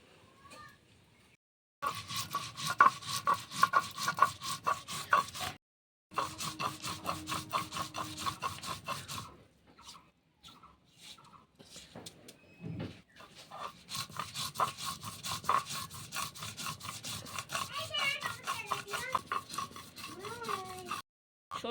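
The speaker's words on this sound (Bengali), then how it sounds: "নে সর্ষেটা বেটে নে তারপরে আদাটা একটু বেটে নিবি" Mustard seeds and ginger are ground on a grinding stone for raw mango pickle, with rhythmic scraping and rubbing strokes repeated in bursts and brief pauses between them.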